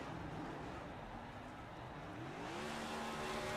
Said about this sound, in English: But both doing some burnouts here in front of Martin Fallon up in that flag stand.